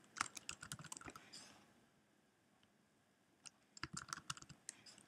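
Quick clattering keystrokes on a computer keyboard while entering data into a spreadsheet, close and soft, with a burst of typing, a short pause, then another flurry.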